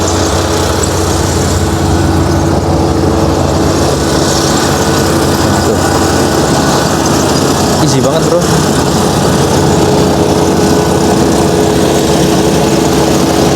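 A rice harvesting machine's engine drones steadily throughout in a rice field in rural Japan, with a brief voice speaking over it partway through.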